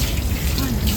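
At a SHOEI helmet factory in Iwate, a shower sprays water over a helmet shell during washing, giving a constant, close, dense hiss with no break across the short moment.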